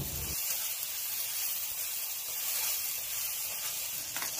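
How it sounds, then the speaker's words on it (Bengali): Spice masala with Kashmiri red chilli powder frying in a pan for chicken tikka masala gravy, a steady broadband sizzle with a brief lower stirring thump at the start, close and continuous, no talking. "মশলা এই পর্যায়ে ভালো করে কষবো"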